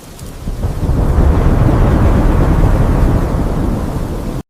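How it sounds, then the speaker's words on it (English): Heavy rain pours down amid a long, loud rolling peal of thunder that swells and sustains before fading, with a dense roaring wash throughout. "The rain was coming down like bullets from heaven."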